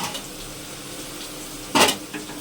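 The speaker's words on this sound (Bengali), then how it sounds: "এখনও তো শুধু আলুরা ভাজা করেছি" Potatoes frying in a pan while preparing biryani, a low continuous sizzle interrupted by one brief louder clatter of stirring near the end.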